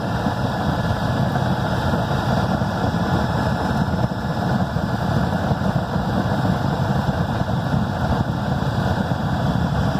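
A homemade waste-oil burner built from an old Freon tank roars steadily, with a dense, constant low rumble of flame and blower running without pause throughout.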